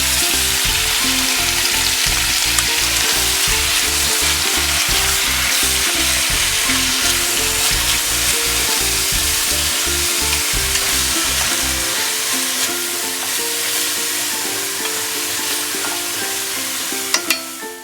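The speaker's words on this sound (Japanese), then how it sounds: "強火でごぼうを炒めます。" Burdock root stir-frying in hot oil over high heat, a loud, continuous sizzle with the crackle and hiss of frying close up, steady throughout with a slight drop in intensity toward the end.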